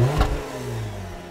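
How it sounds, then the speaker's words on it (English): A 2019 Cadillac CT6 with a twin-turbocharged 3-liter V6 gives a brief, close engine rev that swells quickly and then eases back to a steady hum. "My tester runs with a twin turbocharged 3-liter V6."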